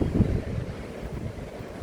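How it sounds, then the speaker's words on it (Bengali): Steady sea waves and gusting wind at Puri, heard from a hotel rooftop, a continuous low rumbling wash that stays fairly loud throughout with a stronger swell at the start. "চতুর্দিকে সমুদ্র।"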